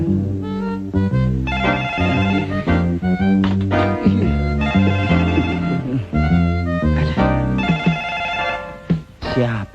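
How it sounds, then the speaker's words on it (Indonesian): A telephone bell rings in a room at night, its repeated ringing bursts running throughout at steady loudness over a musical, tonal background. "Siapa sih telepon masih malam begini?"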